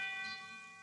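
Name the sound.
fire alarm bell ringing, radio drama sound effect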